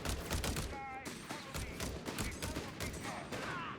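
Heavy machine gun fire in the video game Company of Heroes 3, repeated bursts of rapid gunshots with thuds of combat, dense and loud, with faint talk underneath.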